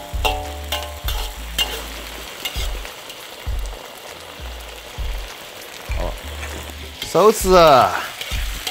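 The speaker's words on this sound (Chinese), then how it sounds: "给它炒一下，确实香哈" Chicken thigh being stir-fried in a wok after a splash of cooking wine and a little caramelized sugar, giving a steady crackling sizzle with repeated scraping stirs and a brief spoken word.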